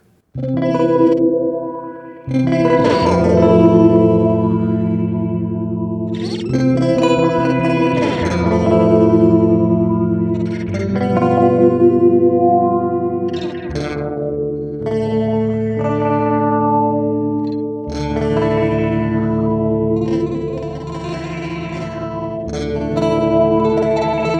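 A polyphonic synthesizer with a delay effect plays a slow sequence of sustained chords and notes, each trailing into echoing repeats, loud and alone without any voices.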